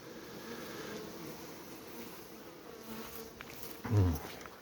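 Honey bees buzz at a hive entrance in a faint, steady outdoor drone, with a brief louder pass near the end as a bee flies close to the microphone.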